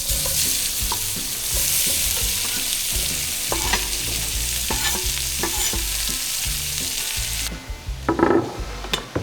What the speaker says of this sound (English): we can take our onions over and drop those right into the fire